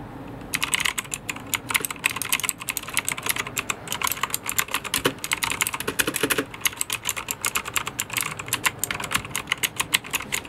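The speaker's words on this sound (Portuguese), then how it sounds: "para vocês perceberem o toque do som das teclas, é este." Rapid, uneven clacking of keys on a budget mechanical gaming keyboard, close and continuous with brief pauses, typed alone without speech.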